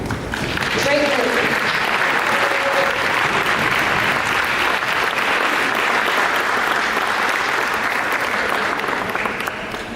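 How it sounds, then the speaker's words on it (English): An audience at an eighth grade school awards ceremony claps steadily for about ten seconds, a dense, loud, sustained burst of many hands, with a few voices briefly audible near the start. "Yeah, you clap. You clap for me."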